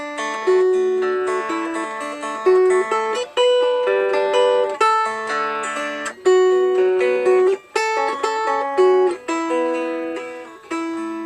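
A mountain dulcimer is finger-picked in a clear, close melody of ringing plucked notes, phrased in short repeated runs with brief gaps and no voice.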